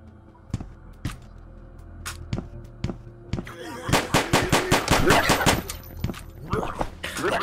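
In a video game, pistol shots first ring out one at a time, spaced apart, then speed up into a loud rapid volley, close and sharp, with a voice faintly under them.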